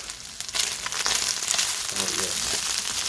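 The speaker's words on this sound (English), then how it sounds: "Can you hear that sizzling?" Food frying in a pan during a Zambian Sunday lunch preparation, a loud continuous sizzle and crackle with a few stirring scrapes, close up and without speech.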